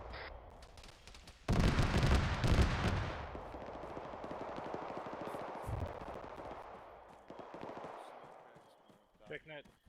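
Heavy autocannon fire in a military video game, a loud close burst of rapid booming shots that eases into a sustained rumble of distant gunfire, with radio voices talking over it.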